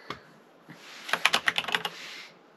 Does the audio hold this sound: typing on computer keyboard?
yes